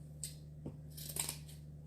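Scissors snip through craft material for a St. Patrick's Day DIY project, a few quiet short cuts spread over two seconds against a steady low hum, with no talking.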